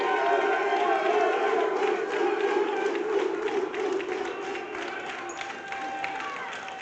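Powerlifting championship crowd cheering and applauding a 93kg classic lifter after his final deadlift, a steady wash of claps and shouts that stays loud and gradually eases off.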